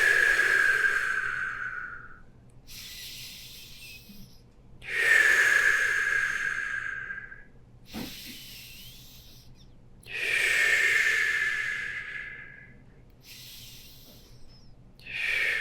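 Slow, deep breaths during a yoga shoulder stand, each long inhale and exhale heard close and clearly in a calm rhythm of about four breaths with quiet gaps between them.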